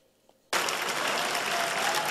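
Applause erupts suddenly after a quiet moment and holds as a dense, loud, sustained clapping from a large crowd at a United Nations General Assembly election of a new president.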